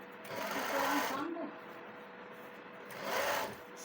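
A sewing machine stitches a salwar leg in two short bursts of rapid whirring with a quiet pause between them. A person talks at the same time.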